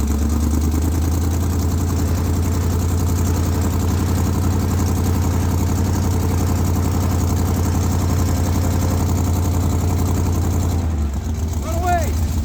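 A vehicle engine revs hard and holds a loud, steady drone while powering an OpenRoad 13K winch, with a low rumble throughout that drops near the end as a voice briefly cuts in.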